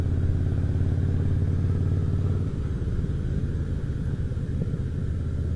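A 2004 Harley-Davidson Fatboy engine rumbles steadily while riding along UK country lanes, a loud, continuous low throb that shifts to a rougher, more uneven growl partway through.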